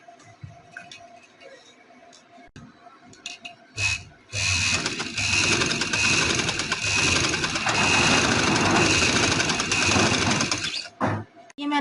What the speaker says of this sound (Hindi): इसके बाद हम इसको यहाँ पे रख के ये एंकर की सिलाई लगाएंगे।